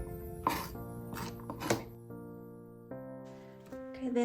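Several knife chops through celery knock against a cutting board in a quick cluster, followed by quieter ringing, faint tonal sounds.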